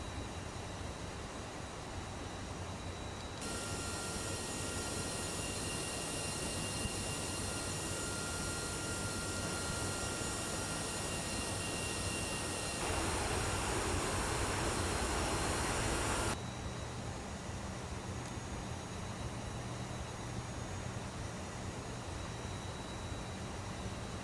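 A steady aircraft engine drone from the Prepar3D flight simulator game, heard from the cockpit. The dense, even roar carries a few faint whining tones and grows briefly louder and brighter partway through before settling back, with no talking.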